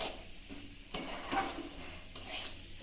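Semolina being stirred and mixed in a pan, soft scraping strokes over a faint sizzle, in short bursts of rubbing and scraping.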